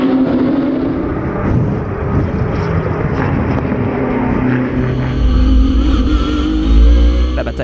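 Race cars including a BMW and a Porsche roaring past on the Lédenon circuit, a steady loud engine drone with wind buffeting, swelling heavier toward the end as cars close in.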